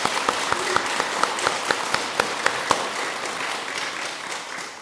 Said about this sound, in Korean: 일단 1차 박수 한번 치고 싶습니다.